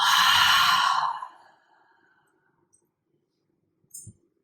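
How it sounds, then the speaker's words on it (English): An open-mouth exhale during a guided breathing exercise: one long, close breathy sigh that fades out over about a second, followed by near silence and a faint soft click. "Take another deep inhale just like that. Fill up. Open mouth exhale."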